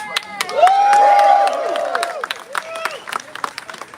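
At an outdoor rally outside the Russian Consulate in Australia, a crowd breaks into applause and cheers. A loud whistle-like cry rises over the clapping, which thins into scattered claps.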